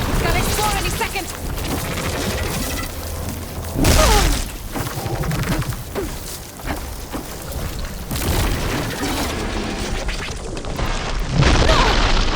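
Plasma bursts and heavy impacts boom through a busy combat scene in the video game Horizon Forbidden West. Loud thuds punctuate a dense, continuous rumble, and a voice talks over part of it.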